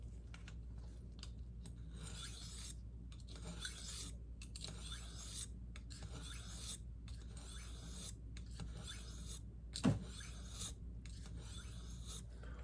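A dull blade is drawn back and forth across a new hard Arkansas sharpening stone in steady, evenly paced rasping strokes, each a short hissing scrape separated by brief pauses, close and fairly quiet, with one small clink partway through.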